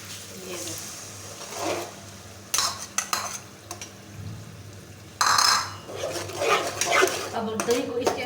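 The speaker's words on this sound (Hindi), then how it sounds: "अब दही को इसके अंदर अच्छी तरह से मिक्स कर लेंगे।" Yogurt being stirred into fish curry masala in a pan, with bursts of spoon scraping and clinking against the pot at an uneven rhythm, alongside quieter stretches of low kitchen noise.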